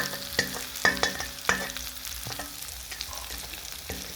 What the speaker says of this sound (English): now I'm transferring all my vegetable mix to the cabbage and egg to the frying pan